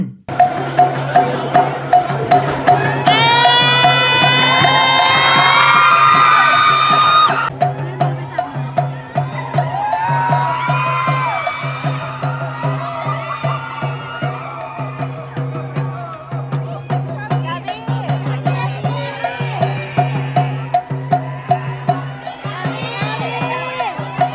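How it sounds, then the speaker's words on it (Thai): Fans at an airport scream and cheer loudly and continuously, with shrill high-pitched screams in bursts over a steady rhythmic beat of Thai long drums throughout, dense and close. "แฟนคลับก็กรี๊ดกราดดีใจกันใหญ่"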